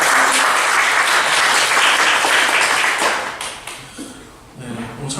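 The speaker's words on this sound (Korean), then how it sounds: "우리 박수로 환영하겠습니다." A church congregation applauds during a Sunday service to welcome a newcomer, a loud, dense wash of clapping that holds steady for about three seconds and then thins and tapers off toward the end.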